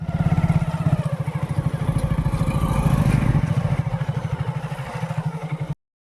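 A motorcycle engine chugs along a muddy village road after heavy rain, its rapid, pulsing exhaust close and loud throughout, with some clatter.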